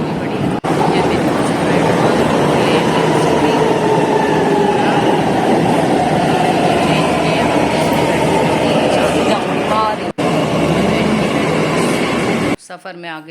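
A Delhi metro train runs underground, heard from inside as a loud, steady rumble and roar that lasts throughout and fades out near the end, with voices faintly beneath it.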